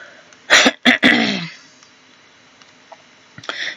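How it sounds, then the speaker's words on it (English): Three quick, loud coughs from a man with congestion, close to the mic, bunched in the first second and a half, followed by near quiet with faint small noises. "Excuse me for coughing."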